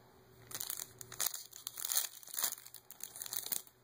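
Crinkly plastic foil of a trading card booster pack being torn open and crumpled, the Tachyon Galaxy set, in several close bursts of crackling over about four seconds, with no talk.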